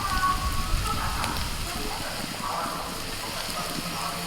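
Matarsutir kabab mixture frying in a pan, a steady close sizzle and crackle that runs through the whole stretch without pause.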